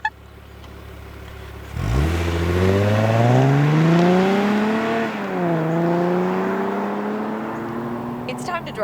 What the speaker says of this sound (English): It's time to drive the 2026 Lexus IS 350 F Sport